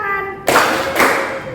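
Hands clapping along to a children's sing-along song: two sharp, close clap bursts over a sustained sung tone.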